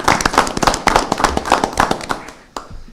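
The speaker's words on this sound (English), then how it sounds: "let's give a round of applause for all the people investing in our community" Audience at a city council meeting breaks into applause, close, loud crackling claps from a smallish group, irregular and dense, fading out near the end with one last clap.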